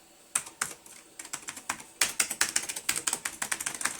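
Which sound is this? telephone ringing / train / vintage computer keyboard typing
vintage computer keyboard typing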